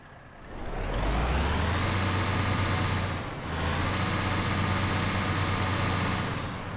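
A heavy Iveco bus engine in the OMSI bus simulator game, on a Jelcz L100I bus, cranks to life and settles into a loud, steady diesel idle, with a brief dip in the rumble midway.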